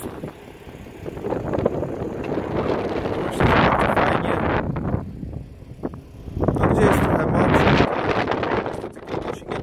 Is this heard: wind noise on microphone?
yes